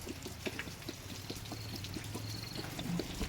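Dirty coolant drains from the radiator of a Mahindra 575 Sarpanch tractor, a steady low pouring trickle of water that runs continuously and fairly faintly throughout, with no voices.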